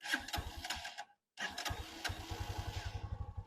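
A 2025 Mustang MT-250R motorcycle cranks with a whirring starter, pauses briefly, then catches into a fast, steady single-cylinder idle putter heard close by.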